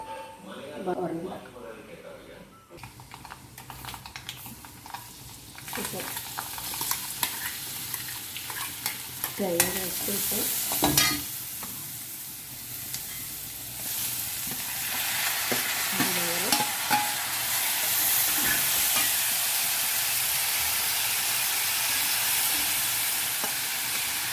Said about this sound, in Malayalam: തേങ്ങ ഉള്ളി കരിവേപ്പില നമുക്കിത് വറുത്തിടണം